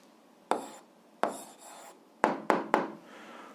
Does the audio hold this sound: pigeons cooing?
no